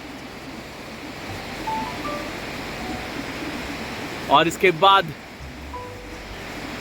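Steady broadband rush of the Kali river flowing at its confluence with the Kali Ganga near Munsyari on the India–Nepal border, continuous and fairly close, with someone briefly speaking over it.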